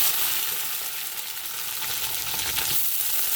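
Chopped onions frying in oil in a pan, a loud, steady hiss of sizzling with faint stirring movements underneath.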